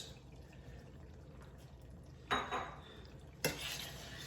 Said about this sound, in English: you don't want to burn the eggs. You just gotta keep stirring it around.